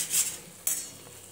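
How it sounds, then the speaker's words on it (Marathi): Spice masala roasting in a pan, with a soft sizzle and a couple of brief scraping stirs of a utensil against the pan, quiet and close. "आपण आपल्या मसाल्याला थोडंसं भाजू देऊया."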